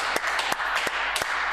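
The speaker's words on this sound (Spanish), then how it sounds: "aplauso, muchacho, por favor." A small group claps in applause, a brief run of several sharp claps over steady background noise, without voices.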